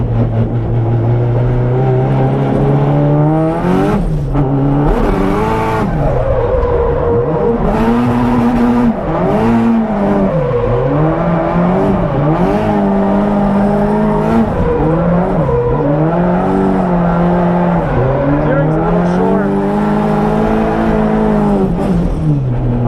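A Nissan S13 on Federal tires drifts through corners, its engine revving hard with rising and falling pitch sweeps and a sharp, loud note near the rev limiter, tire squeal mixed into the continuous roar.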